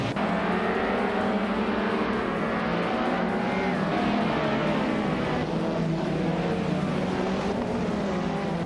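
Vintage race cars pulling away at the start of a race at Spa, a loud continuous engine roar with rising and falling pitch as the pack accelerates, no talk.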